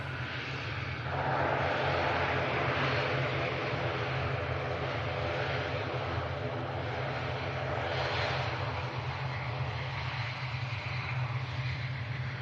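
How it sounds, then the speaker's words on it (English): A Loganair ATR 72 turboprop airliner landing at Manchester Airport, arriving from the Isle of Man: a steady, loud propeller and engine drone with a low hum, swelling slightly and holding constant with no talk. "Logan Air ATR 72 coming in from the Isle of Man."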